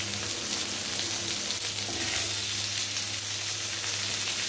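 Chopped capsicum frying in a pan for chilli cauliflower gives a steady, close, broadband sizzle that holds evenly throughout with no voices.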